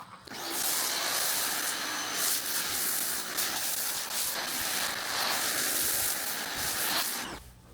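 A foam cannon sprays a second coat of foam onto a car before a contact wash, a steady loud hiss of pressurized spray running continuously for several seconds, then cutting off.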